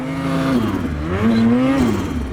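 A Ski-Doo Summit 850 E-TEC Turbo snowmobile engine revs close and loud, its pitch climbing, dropping and rising again, with a fluttering turbo sound as the throttle eases off.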